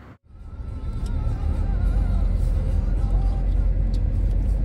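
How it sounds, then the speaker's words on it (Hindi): Bumper-to-bumper city traffic heard from inside a Mahindra XUV700 diesel automatic: a steady, loud low engine and road rumble with the drone of surrounding vehicles, continuous throughout. "तो भाई यही ट्रैफिक चल रहा है तब से बम्पर टू बम्पर"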